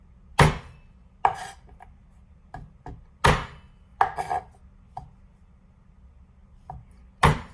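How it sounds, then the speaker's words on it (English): A weighted chef knife chops garlic on a board in a series of crisp, close knocks, irregular and spaced apart, some in quick double strikes. "Always you have to cut the garlic like this"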